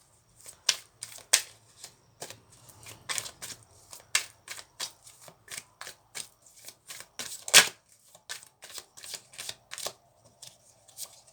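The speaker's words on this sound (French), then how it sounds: "On va donc faire tomber 10 cartes." Tarot cards are shuffled and dealt in a quiet room, a long run of crisp rapid flicks and slaps in uneven bursts, close and clear with no talking.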